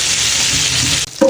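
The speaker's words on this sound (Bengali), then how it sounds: "এখানে চিকেনগুলো লাল লাল করে ভাজা হয়ে গেছে।" Chicken pieces fry in a home kitchen pan until reddish, with a close, continuous sizzle that cuts off abruptly near the end, followed by a brief clatter.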